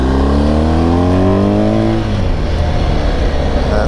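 A BMW GSA motorcycle on Bridgestone tyres accelerates hard as the rider lifts the front wheel, its engine note climbing steadily in pitch for two seconds before settling into a loud, rough drone with heavy wind rush throughout.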